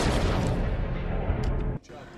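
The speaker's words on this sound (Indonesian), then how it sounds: "Tony membunuhnya dengan sebuah tembakan" A single loud gunshot in a dramatic action film scene, a sharp sustained burst that cuts off abruptly near the end, leaving a quieter tail with faint background sound.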